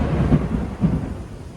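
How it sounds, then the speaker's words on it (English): Rain falling in Florida, heard as a low, rumbling wash with soft swells, steady and fairly close, no voices. "It's raining right now"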